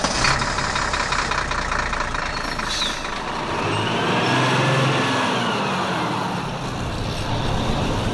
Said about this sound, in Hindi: चलो ड्राइवर, बस चलाओ